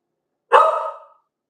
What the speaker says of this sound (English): hey, puppy, be quiet, baby.